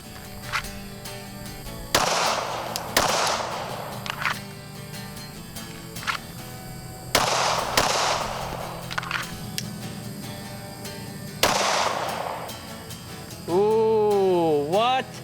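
A 1992-production Glock 19 Gen 2 pistol fires at a shooting range: several loud, sharp shots at irregular intervals, each with a short echoing tail, and a brief tonal whine near the end.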